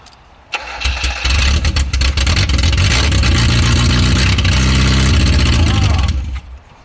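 A Ford Festiva rally car engine, fitted without engine mounts, cranks and catches, then runs loud and steady at close range with a deep rumbling idle and a few revs, while people talk over it.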